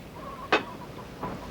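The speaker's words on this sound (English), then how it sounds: "Mr. Morton, let the chickens be." A chicken gives one sharp, loud cluck, followed by a softer second cluck a moment later, over a low background hum.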